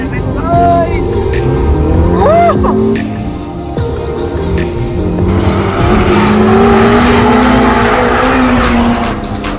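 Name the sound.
sports car driving fast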